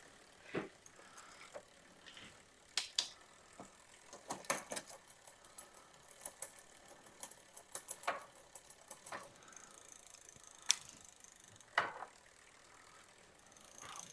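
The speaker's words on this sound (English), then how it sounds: "You hear the chain just going through the thing, but you shouldn't hear any kind of clickety-click clicks" E-bike chain running through the gears while the derailleur is being adjusted, with a steady faint mechanical whir broken by scattered light clicks and ticks, no voices.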